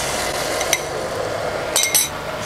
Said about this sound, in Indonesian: sekarang kita masukkan saus yang sudah kita buatkan tadi